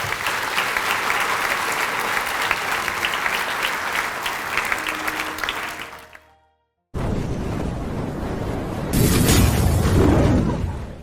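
Sustained applause from a large audience at a Grade 8 blazer ceremony at a high school, steady clapping that drops out briefly and then resumes louder and fuller near the end.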